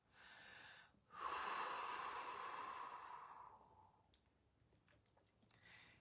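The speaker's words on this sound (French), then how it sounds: "Et on expire." A long, steady exhale during a guided breathing exercise, a brief breath at the start, then a sustained airy outbreath that slowly fades, close and alone.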